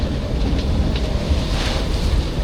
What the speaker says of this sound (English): we've got 20-25 knots of wind